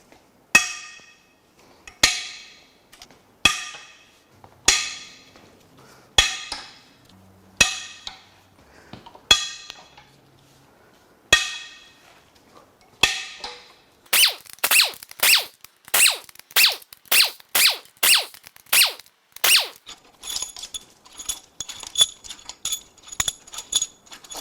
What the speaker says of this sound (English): now it is time to crack the head bolts loose